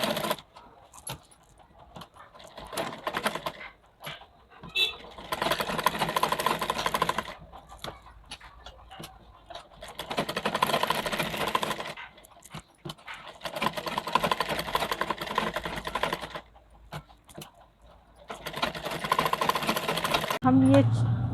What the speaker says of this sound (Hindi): अब हम इसके चारों तरफ से सिलाई करेंगे